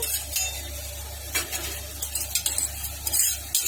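Sesame seeds dry-roast in a pan without oil, stirred with a utensil; soft rustling, scraping strokes and light ticking come close up over a faint steady hum, with no voices.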